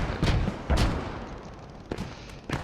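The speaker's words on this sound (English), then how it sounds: "Oh, enemy tanks firing." Enemy tanks fire in a World War II-style war game, with several heavy booming shots spaced irregularly, mid-distance and fairly loud, each trailing off into a rumble, and no talking over them.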